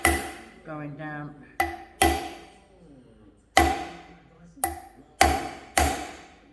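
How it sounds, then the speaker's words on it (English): Hammer blows on a drift tapping wheel bearings into a Triumph chopper wheel, a series of sharp metallic strikes in irregular rhythm, close and loud, with a brief stretch of voice between the first hits. "that should give us a drift that will tap one of those bearings in"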